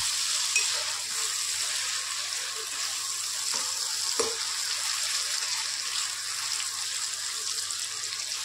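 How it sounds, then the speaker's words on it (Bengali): Potatoes frying in hot oil give a steady, even hiss that fills the whole stretch at moderate volume, with one or two faint knocks and no speech. "আলুটা ভাজা হয়ে গেছে, এবার আমি তুলে নেব।"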